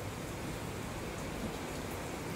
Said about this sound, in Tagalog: Punta tayo sa labas para ipapakita ko sa inyo yung ulan.